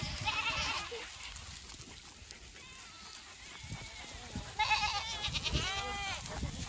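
Several goats bleat in bursts in December in Minnesota, a wavering cry early on and more calls toward the end, over faint outdoor background noise.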